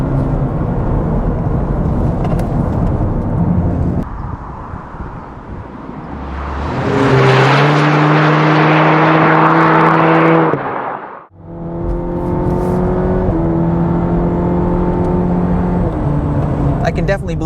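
A 2023 Cadillac CT4-V sports sedan engine revs up loudly mid-drive, rising in pitch through a gear, cutting off abruptly, then resuming at a steadier drone, with some talk from inside the car.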